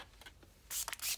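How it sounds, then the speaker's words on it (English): A small spritz bottle of water sprays in a few quick hissing bursts onto watercolor paints, close and fairly clear after a quiet start. "I usually keep this little spritz bottle, and it's a little bottle filled with water"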